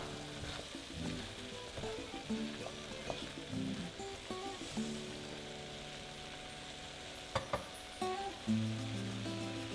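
Paella simmering in a covered pan with rice, green beans and vegetables, a steady soft sizzle and bubbling with occasional small pops and clinks, fairly quiet and continuous without voices.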